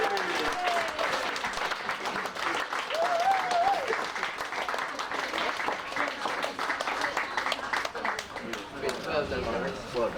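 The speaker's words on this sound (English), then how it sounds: "Big round of applause." A big round of applause at a blue plaque unveiling for Biddy the Tubman, a crowd clapping steadily with cheers, a whoop and chatter mixed in throughout.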